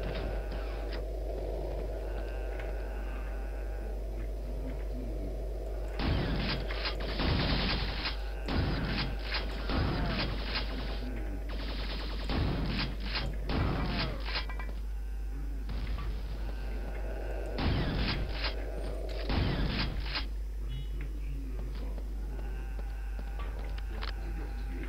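Gunfire in the video game Quake 2: repeated bursts of loud weapon shots in clusters over a steady game background hum, with pauses between volleys and no speech.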